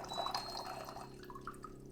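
Water trickles and splashes as a pitcher fills from a countertop reverse osmosis dispenser, a steady near pour with light drips and gurgles.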